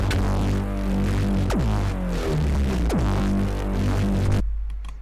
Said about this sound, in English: Erosion, that's going to give us some nice kind of distortion.